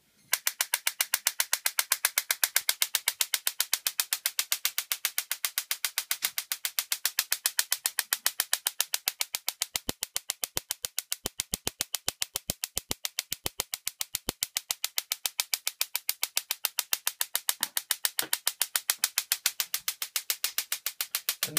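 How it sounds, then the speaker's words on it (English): A small Tesla coil powered by a 9-volt battery fires spark discharges as a rapid, evenly spaced train of sharp crackling snaps, running continuously and fairly loud for about twenty seconds. "I will connect the power supply, show you the discharge"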